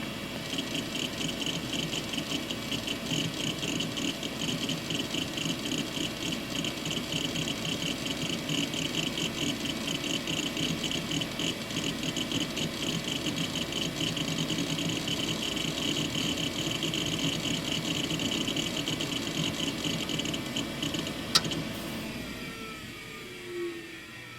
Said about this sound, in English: Just so you can hear that hard drive go.